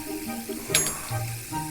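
Meat for Kazakh plov sizzles in a cauldron as water is poured in, a brief burst of hissing under talk that rises and then fades.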